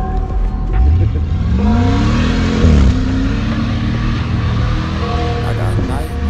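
Off-road car in a highland meadow revving hard, the engine pitch climbing and falling in a sweep as it accelerates, loud and close, with someone speaking briefly over it.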